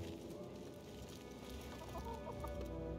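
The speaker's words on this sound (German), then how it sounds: "Warum sind hier Hühner" Chickens cluck faintly and steadily in a busy Assassin's Creed Mirage game scene, their soft calls set among ambient town noise.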